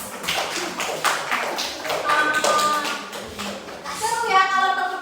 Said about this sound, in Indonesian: ayo tepuk tangan untuk kelompok 2